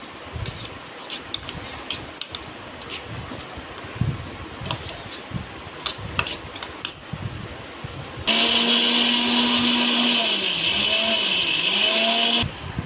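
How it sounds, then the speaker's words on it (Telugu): Faint clinks and shuffling give way to a mixer grinder whirring loudly for several seconds, grinding ingredients with water into a smooth paste, its pitch dipping as it churns, then it stops. "దీంతో వాటర్ వేసుకొని మెత్తగా పేస్ట్ లాగా చేసుకోవాలి ఫ్రెండ్స్."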